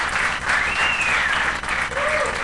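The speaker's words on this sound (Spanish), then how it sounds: "¿Cuánto le damos aplauso al Señor?" Church congregation applauding at a Spanish-language service, a steady wash of clapping filling the space for a couple of seconds, with faint voices and a brief whistle-like tone mixed in.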